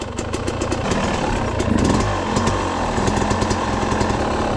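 A motorcycle engine runs steadily and close by on a hilly route in Minas Gerais, Brazil, a continuous rough mechanical drone with small rises in revs and no talking.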